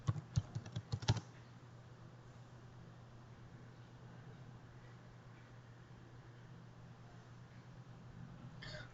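Rapid computer-keyboard typing while a password is entered: a quick burst of close, crisp key clicks in the first second, then only a low steady room hum.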